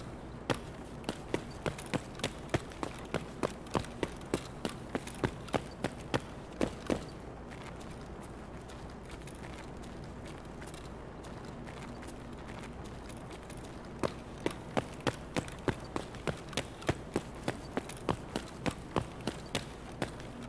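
Running footsteps of a player character in the shooter Escape from Tarkov, a steady quick rhythm of crisp thuds, pausing briefly midway before resuming, heard alone without talk.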